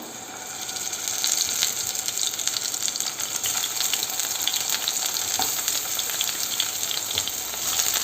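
Three halved tomatoes laid cut side down sizzle in hot coconut oil, a loud, dense, close hiss with fine crackles that holds steady throughout, without speech.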